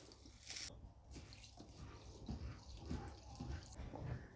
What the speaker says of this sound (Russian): Итак, для начала берем стакан риса и хорошо промываем.